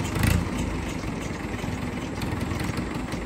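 A small tractor engine labours as it strains to pull a stuck tractor on a farm, producing a steady, rough mid-pitched drone at close range with no talking.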